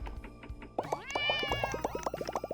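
A kitten in a video game meows repeatedly in a rising and falling run of close, clear calls. A few soft taps come just before the meows start.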